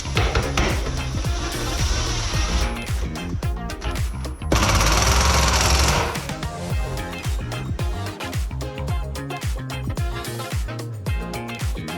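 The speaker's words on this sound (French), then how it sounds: "Il faut une bonne visseuse, ça c'est sûr, parce qu'il faut vraiment forcer." A power screwdriver drives screws into an aluminium window frame in loud, close bursts of rattling, hammering whir. One long, harsher stretch sits midway, with no talking over it.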